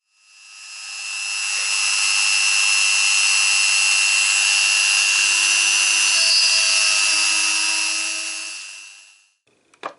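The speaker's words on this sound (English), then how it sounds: "Just drill your hole in the center of the backing board." A power drill whines steadily as it bores a hole through a backing board, spinning up, holding a constant high pitch for several seconds, then winding down.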